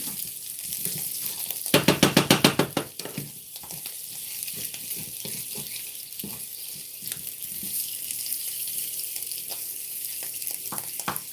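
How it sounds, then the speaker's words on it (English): Meat frying in a pan for a biscuits and gravy breakfast, a soft crackling sizzle close by, with a short burst of loud rhythmic scraping or stirring near the start, then steady spattering pops. "Meat cooking in a pan."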